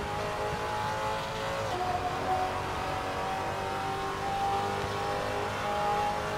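A Maserati MC GranTurismo GT4 race car in Assetto Corsa holds a steady, loud engine drone under throttle, its pitch climbing gradually as it accelerates, with no talk over it.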